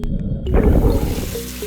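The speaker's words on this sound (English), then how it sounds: "Give a thorough rinse to clean them." Shrimp being rinsed under running tap water, a steady splashing gush that swells after a brief quiet start and carries on close and fairly loud to the end.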